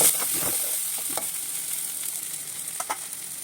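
Prawns frying in a pan, an even, hissing sizzle throughout with a few soft stirring taps, close and moderately loud, no talking.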